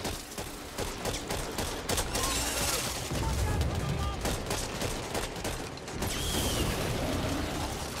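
Rapid gunfire from a World War II-era gun in the zombie shooter Back 4 Blood, a dense rattling burst of mechanical clatter that runs almost continuously under game noise.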